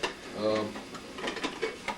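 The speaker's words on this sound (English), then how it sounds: "that's the frying pan that you use" A Teflon-coated camping frying pan is handled at a scout outing, giving a few light metallic clinks and scrapes, quiet and close, under a voice.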